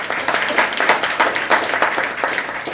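A seated audience at a Jain spiritual discourse in Pune claps steadily, with dense, even applause at a close, moderate level that holds throughout without speech.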